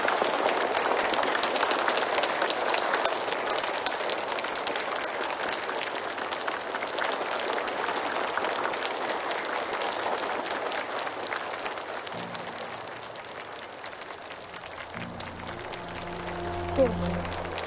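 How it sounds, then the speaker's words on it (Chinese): Audience applause in a dramatic scene at a handover ceremony for a factory donated to the government, a steady broad clapping wash from start to finish that thins slightly near the end as low tones enter. "那就让我们用最热烈的掌声感谢她"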